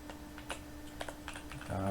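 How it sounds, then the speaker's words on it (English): Keys clatter on a wireless keyboard in short light taps, a few quick strokes spread out and then a denser burst at the end, close and quiet against a faint steady hum. "Oh my god, my wireless keyboard, it's not the greatest."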